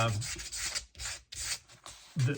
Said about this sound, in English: the purpose of this is just simply to lightly scuff the surface